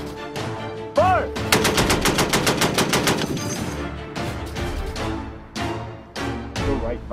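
Browning M2 .50 caliber heavy machine gun firing a long, steady burst of rapid, evenly spaced booming shots, followed by shorter bursts, loud and close with outdoor echo.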